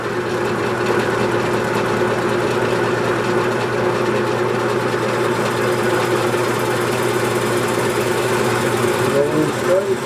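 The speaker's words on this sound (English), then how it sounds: "Just getting cutting out my tenon" A wood lathe spins a green poplar bowl blank while a tenon is cut, giving a steady motor hum with a scraping, whirring cut running continuously underneath.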